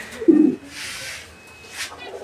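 German beauty homer pigeons give a short, low coo close by, followed by faint background hiss and a soft rustle, all very brief.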